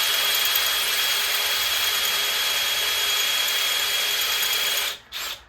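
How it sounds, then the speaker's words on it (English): A power drill bores out a broken stud in the cylinder head of a big-block 454 engine with a 5/16 bit, a loud continuous whine close by that stops near the end, starts again briefly, then cuts out. "Yeah, this ain't drilling so hot with 5/16."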